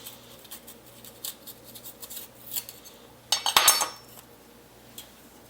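A knife trimming white pith from a green pepper on a cutting board, light scraping and tapping strokes in an uneven rhythm, with one louder clattering knock partway through, close and otherwise quiet.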